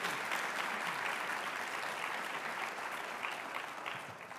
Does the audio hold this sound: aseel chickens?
no